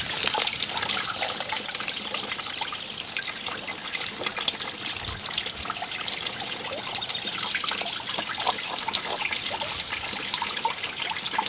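Water flushing steadily out of a hose from the cooling system of a 2008 Hyundai Elantra during a coolant service, a constant close splashing trickle running without pause.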